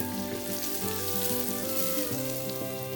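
Green chillies, ginger and garlic sizzle steadily in hot oil for pork adobo, a dense, continuous frying crackle heard up close with a melody playing over it and no talking.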